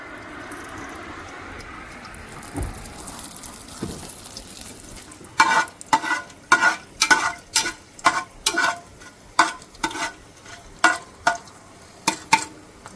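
Low sizzle of cardamom frying in oil, then a rhythmic series of about a dozen scraping strokes from stirring in the pan.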